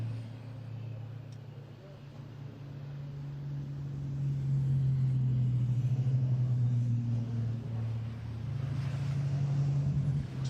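Turbocharged 12 and 13 litre racing truck engines of nearly 1,000 horsepower, running on HVO biodiesel, rumble steadily at Thruxton, a deep continuous drone that swells slightly in the middle, with commentary over it.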